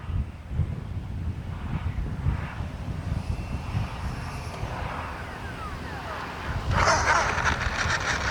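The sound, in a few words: X-Fly F-22 Raptor twin 40mm RC jet flying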